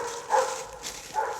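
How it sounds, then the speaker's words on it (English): A single firm, sharp dog bark let out on an outdoor deck at night, with a fainter second yelp shortly after; moderate loudness and no talk. "let out a bark that could have cracked a mirror. Firm, sharp, no nonsense,"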